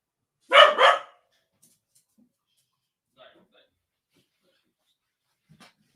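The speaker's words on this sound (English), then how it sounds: "My apologies for the barking." A dog gives two quick, loud barks close by, followed by near silence with only faint scattered sounds.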